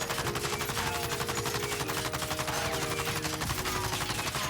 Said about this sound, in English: from this close to someone, we go for a hipfire